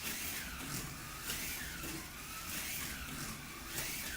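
A fast RC truck on a Stinker chassis whines by in repeated passes, its electric motor buzz rising and falling in a quick rhythm; moderately faint, with no talk.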